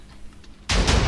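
A blocky TNT charge detonates in a Minecraft TNT Wars match, a sudden loud game explosion bursting in after a quiet moment of faint background sound and continuing as a broad roar.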